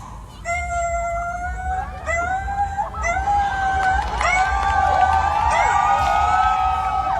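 A person imitates a puppy's high, whining cries, several drawn-out squeals rising and falling, while a crowd laughs and cheers in the background.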